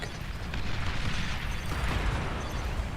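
Bombers attacking in a real-time strategy game, a dense rumbling barrage of explosions and booming bursts rolling continuously with heavy low-end weight and no pauses.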